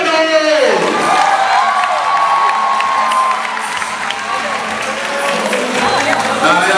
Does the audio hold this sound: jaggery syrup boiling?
no